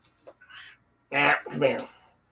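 A bird gives a few harsh, raspy squawks close by, two loud calls in quick succession after softer chirps.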